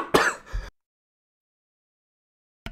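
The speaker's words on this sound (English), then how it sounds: "Sorry about that. We'll cough a little bit." One sharp, raspy throat clearing, like a short cough, close to the microphone, followed by silence.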